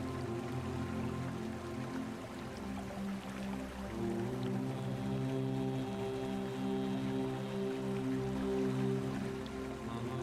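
Soft background water ambience, steady trickling and rain-like patter, plays quietly and continuously under a low sustained musical drone, with no talking.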